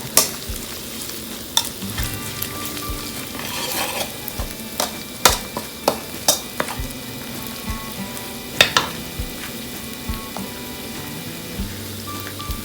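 Chili stir-fried in a pan for a Thai frog salad, a continuous sizzle broken by sharp, irregular clanks and scrapes of a spatula against the pan, close and fairly loud, without talk.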